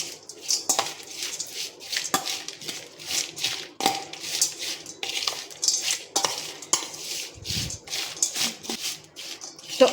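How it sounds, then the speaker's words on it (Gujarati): A spoon stirs potato chevdo with lemon salt, fried lentils, cashews and raisins in a large vessel, giving repeated close scraping and clinking rustles in an irregular rhythm, with no talk. "બધું જ આપણે ચમચીથી મિક્સ કરી લઈશું"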